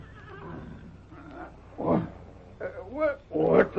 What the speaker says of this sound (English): That's a horse somewhere's in the distance.